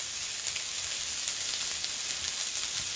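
Chicken sticks cooking on a grill or pan, a steady bright sizzle with faint crackles and pops, close and continuous with no talking.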